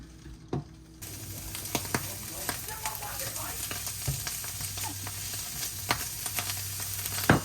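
A vegetable-packed bolognese simmers in a single pan with a continuous bubbling sizzle. Scattered scraping and clicking from stirring sit on top, close and moderately loud.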